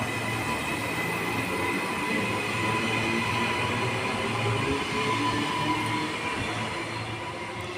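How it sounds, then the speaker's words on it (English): An NGR passenger train pulls away from Helensvale station with a steady rumble of rolling wheels on rail and a faint high squeal, holding at moderate level before easing slightly at the end. "The train's now departing."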